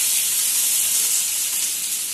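Chopped onion with dried red chili dropped into two spoons of hot mustard oil makes a loud, continuous sizzling hiss close by, steady for the whole stretch.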